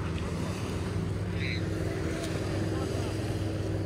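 Motorboats on the sea off Dubai drone past with a steady low engine hum over wash and wind, fairly distant and constant.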